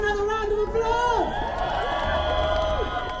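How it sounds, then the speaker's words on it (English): A crowd at a cost of living protest claps and cheers continuously, a thick roar of voices and applause with whoops rising over it, fairly loud and close. "Give her another round of applause"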